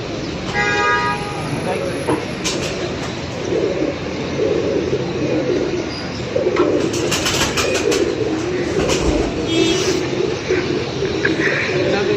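Pigeons from a Punjab pigeon-keeping setting cooing in soft repeated calls among outdoor noise, with a car horn tooting briefly and people talking nearby.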